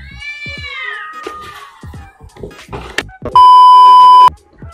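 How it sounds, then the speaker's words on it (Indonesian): Cats yowl and snarl in a brief scuffle with rising, wavering cries, followed by a loud electronic beep holding a steady tone for about a second. "bunyi kucing kelahi tadi"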